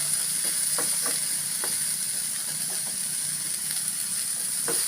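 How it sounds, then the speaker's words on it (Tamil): Pumpkin cooks in a pan over a low flame, giving off a steady, even sizzling hiss with a few faint ticks and pops scattered throughout. "எப்படியே ஒரு ஸ்லோ ஃபயரில் வச்சு ஒரு 2 மினிட்ஸ் அப்படியே விடுங்க."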